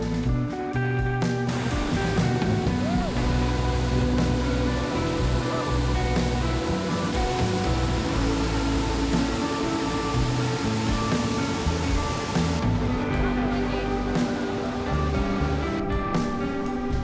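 Iguazú Falls at the Devil's Throat roars as a thick, constant wall of rushing water, loud and unbroken for the whole stretch, with the steady rumble of a boat mixed in.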